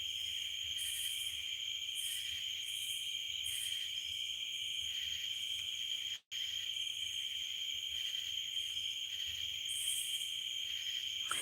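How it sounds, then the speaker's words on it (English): Cicadas and crickets chirp at night in a steady, continuous outdoor chorus, with bright pulsing insect trills layered over faint low background noise and one brief dropout midway. "And those are cicadas and crickets."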